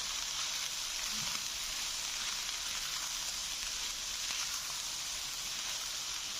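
Masala chicken pasta being mixed in a pan: a steady, even sizzle hisses throughout, faint and constant, with no distinct scrapes and no voices.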